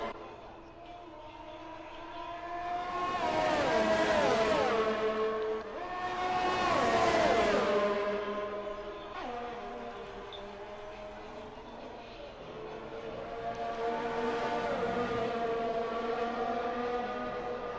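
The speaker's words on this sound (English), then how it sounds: "Vettel, Verstappen again do battle into Parabolica" Formula 1 race car engines in the F1 2019 video game, at Monza's Parabolica, scream in rising and falling high-revving whines, with several cars sweeping past in loud waves and gear changes, heard under faint commentary.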